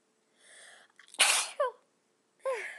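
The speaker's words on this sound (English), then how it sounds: "I have to sneeze." A single loud sneeze up close, preceded by a sharp inhale and followed by a short vocal sound.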